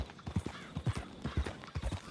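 Horse hooves clip-clop at a steady walking rhythm in Red Dead Redemption 2, a borrowed horse carrying its rider on a long trip, the hoofbeats close and clear with no talk over them.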